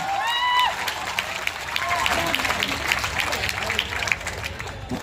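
Clapping from the audience at a Hindi kavi sammelan poetry gathering, a steady patter of many hands with cheers and whistles near the start and crowd voices underneath.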